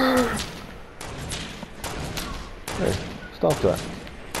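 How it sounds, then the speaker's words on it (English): Bursts of Fortnite gunfire and explosions crack out in sharp, separated volleys from a playground match, with a voice calling out between the shots. "I hear explosions."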